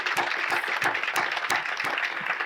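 An audience at a Veterans Day ceremony gives a round of applause, steady dense clapping from many hands at moderate distance for the full stretch.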